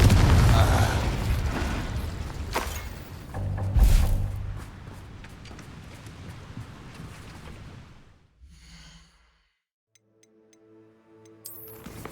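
A Confringo fire spell detonates in Hogwarts Legacy, a loud booming blast with a second burst shortly after, decaying into crackling rumble before fading to near silence and faint tinkly effects.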